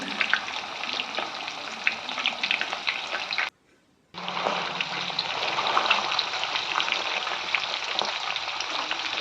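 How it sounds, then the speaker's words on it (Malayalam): Quail pieces frying in hot oil give a steady, close, dense sizzle with a crackling hiss that cuts out for about half a second and then resumes just as loud. No voices are heard. "റെസ്റ്റ് ചെയ്തതിന് ശേഷം നമുക്ക് കട ഫ്രൈ ചെയ്തെടുക്കാം"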